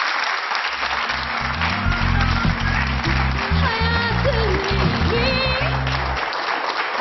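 Studio audience applause welcoming a professor guest on a Turkish health talk show, a steady broad clapping wash over upbeat background music, with a few voices underneath.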